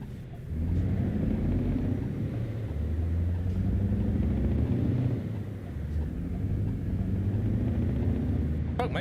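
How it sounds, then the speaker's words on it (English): A heavy truck engine in Euro Truck Simulator 2 drones with a deep, steady low rumble throughout, dipping briefly midway before settling back, loud and close with no talk. "Truck makes a lot of noise, but it doesn't seem to go anywhere fast."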